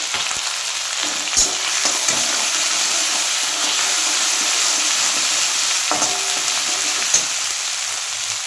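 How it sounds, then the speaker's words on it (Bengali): Tomato paste with cumin, coriander powder and ginger paste sizzles steadily in a hot pan for a bitter gourd kofta curry, a loud continuous frying hiss broken by a few soft stirring knocks, with no talk. "টমেটোটাকে দিয়ে একটু কষিয়ে নেব আগে।"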